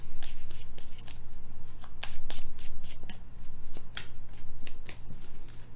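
Tarot cards are shuffled in the hands for a love reading, with a steady run of crisp, close riffling and flicking bursts and no talking.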